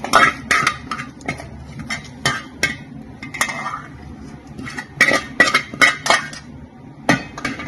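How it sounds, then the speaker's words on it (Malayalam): Fried sardines are strained into a dish, heard as a run of sharp metallic clinks and scrapes of a utensil against cookware, coming in irregular bursts and close by. "നമുക്കിത് ഇങ്ങോട്ട് സ്ട്രെയിൻ ചെയ്ത് മാറ്റാം"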